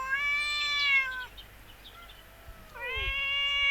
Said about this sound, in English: Grey Cat has to have his say.